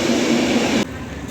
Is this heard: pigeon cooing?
no